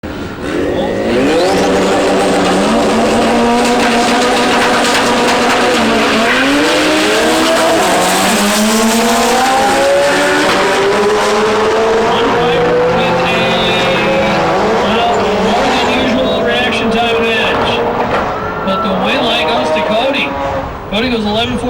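Turbocharged Honda drag cars, a 1994 Integra with a 1.8-liter engine and a turbo Civic, roar at full throttle with rising and falling engine pitch and tire squeal, loud and continuous under an announcer's commentary.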